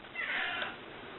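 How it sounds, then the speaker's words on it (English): A house cat gives a single drawn-out meow, close and moderately quiet, with no other sounds around it. "Got a cat bugging me."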